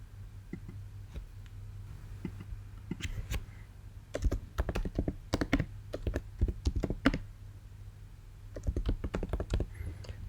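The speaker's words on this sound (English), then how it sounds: "So I'll just go ahead and type the reason here." Typing on a computer keyboard comes in quick bursts of close key clicks with short pauses between them, over a low steady hum, with no talk.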